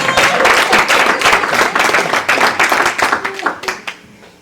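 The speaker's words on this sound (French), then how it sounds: "Acclamons pour le Seigneur, s'il vous plaît." A church congregation applauding, dense rapid clapping from many hands filling the room loudly, thinning toward the end, with a voice faintly under it.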